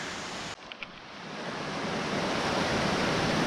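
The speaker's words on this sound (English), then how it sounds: "Look how that water just flows down that." Water rushes down the rocks of Flume Gorge in New Hampshire, a loud, continuous roar that swells slightly and stays steady, with no voices.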